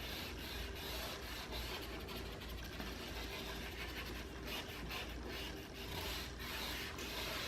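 A cloth rubs Dixie Belle wax into a vintage wooden furniture piece, giving a continuous soft rasping scrub that sounds faint and close, with no talking over it.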